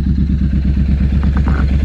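Motorcycle fitted with a scrambler kit and an exhaust with the restrictor removed, idling close and loud with a fast, even throbbing beat and a light mechanical clatter on top.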